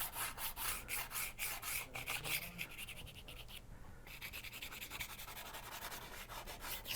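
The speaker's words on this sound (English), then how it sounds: "by using the hard pastel after the soft, I burnish that color in there" A hard pastel scrubs color into a soft pastel layer on paper, a close, dry rubbing that comes in quick, rhythmic back-and-forth strokes. The strokes pause briefly partway through, then carry on at a steady pace.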